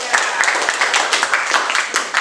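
A classroom group claps for a student presentation group. The applause is steady and close, with quick overlapping claps that carry on for a couple of seconds.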